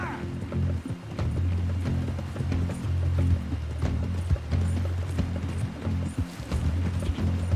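Rhythmic horse hoofbeats in the video game Red Dead Redemption 2 clop along at a steady trot, with low rumbling footfalls and faint mechanical clicks mixed in.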